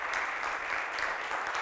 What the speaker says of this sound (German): Eine Runde Applaus